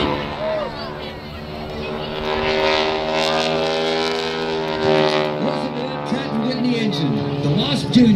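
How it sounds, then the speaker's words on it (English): Supercharged 450-horsepower nine-cylinder radial airplane engine on a wing-walking aircraft, a loud rich droning roar with shifting pitch, while a voice talks over it in places. "450 horsepower, 9-cylinder engine, gear-driven supercharger. Gives you goosebumps just listening to it."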